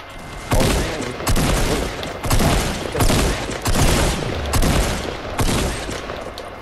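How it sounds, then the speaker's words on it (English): Assault rifle fire in Fortnite comes in about seven loud, dense bursts of rapid shots, each lasting roughly half a second to a second with brief gaps between, heard alone without talk. "Somebody's shooting an AR."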